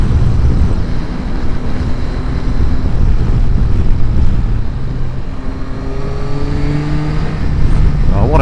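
A Yamaha Tracer 9 GT touring motorcycle, from the 2024 model year, is ridden at speed with a loud, continuous engine drone and wind noise, rising in pitch with gear changes toward the end.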